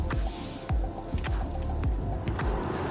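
A Volvo XC40 Recharge rolls steadily over cobblestone paving, giving a continuous tyre rumble broken by regular soft thumps as the wheels cross the stones, heard from inside the car with no talking.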